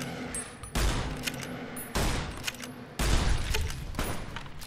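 Gunfire in Fallout New Vegas on Hardcore: three loud, sharp shots about a second apart, each trailing into a short reverberant decay, close and clear with no talking.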